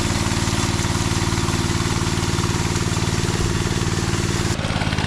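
A concrete finishing machine works a garage slab, its small engine running with a loud, steady, close throbbing drone and even pulsing rhythm, no voices over it.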